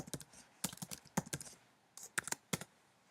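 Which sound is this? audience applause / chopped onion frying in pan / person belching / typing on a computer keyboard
typing on a computer keyboard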